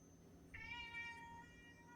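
A house cat gives a single drawn-out meow indoors, faint and somewhat distant against a quiet background hum, with no talk.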